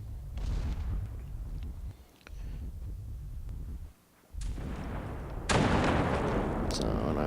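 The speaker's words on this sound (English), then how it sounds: "So we're just camping for the bombs coming through here." Bombs exploding during a squad match in the video game Rules of Survival, deep rumbling blasts rolling on almost without pause, fading briefly twice before a louder, brighter burst near the end.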